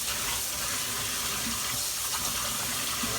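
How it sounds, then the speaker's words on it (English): Water runs steadily from a kitchen tap while hands are washed between batches of frying chicken, a continuous close hiss and splash with no talk. "Wash my hands here."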